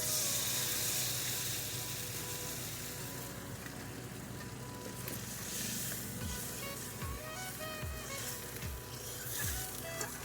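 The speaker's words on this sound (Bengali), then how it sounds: "এখন দিয়ে দেবো জল, দিয়ে দিচ্ছি জল" Water poured into sizzling mustard masala frying in oil for a Bengali katla fish curry sets off a loud, steady hiss that continues throughout, with a few soft knocks near the end.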